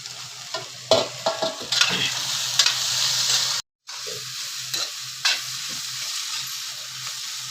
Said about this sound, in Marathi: आता आपण त्याच्यात टोमॅटो टाकू, कढीपत्ता, कोथिंबीर, हे चांगलं आपण परतून घेऊ